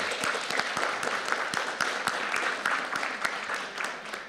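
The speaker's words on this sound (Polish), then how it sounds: "Przede wszystkim gorące brawa dla naszych prelegentów." Warm audience applause for the panel speakers at a Polish start-up conference session: dense, continuous clapping from a seated crowd, fairly distant and even, with no talk over it.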